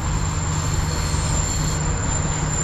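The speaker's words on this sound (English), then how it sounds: "train coming through right now." A shack-style work train rolls past on a railway track by a trout stream, a loud continuous rumble of wheels and cars with a sustained high squeal, steady throughout.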